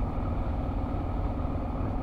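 A BMW R1250R motorcycle engine under way while riding, a loud, steady low rumble with constant wind noise, close and unbroken for the whole stretch.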